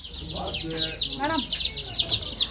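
Small chicks at a poultry display in Yelagiri, eating feed from a hand, keep up rapid high-pitched cheeping throughout, close by, while people talk over them.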